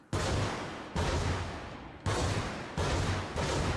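Helicopter rockets fire in a flight game on a HOTAS setup, four heavy whooshing blasts arriving about a second apart, each loud and broad and trailing off before the next one.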